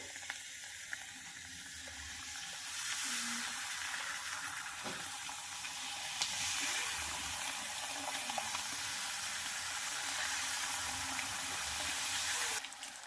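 Papdi, thin rounds of dough, fry in hot oil with a steady, close sizzle that crackles continuously and stays fairly even from start to finish, with no one speaking.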